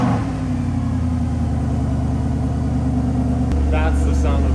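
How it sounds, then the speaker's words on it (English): Mercedes-AMG SLS V8 at a car dealership in Japan, a loud steady engine drone that rises into a deeper, heavier rev near the end, close by. "That's the sound of an AMG."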